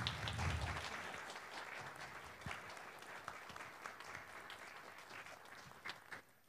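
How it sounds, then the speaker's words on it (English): Audience applause at a faith community special event, a crowd clapping steadily at moderate distance, fading slightly toward the end, with no talk over it. "Let's give everyone a huge round of applause"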